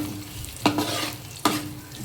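Ingredients for a fish kulambu sautéing in a pan under a soft steady sizzle, broken by two sharp scraping stirs about a second apart.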